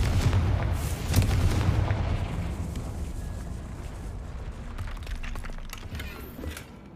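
The Confringo explosion spell in the video game Hogwarts Legacy sets off a heavy, booming blast that rolls into a long rumbling roar and slowly fades over several seconds.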